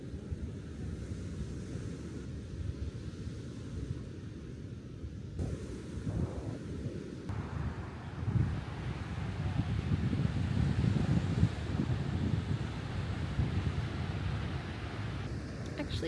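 Steady wind buffets the microphone over the low, continuous roar of ocean waves at Henley Beach, rising and falling gently with no voices.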